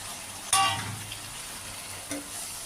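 Pomfret fish curry hissing in a pan as a little water is added: a sudden burst of sizzle that settles into a soft, steady simmer, with a second brief splash-hiss near the end.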